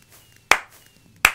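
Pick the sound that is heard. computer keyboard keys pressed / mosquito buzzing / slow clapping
slow clapping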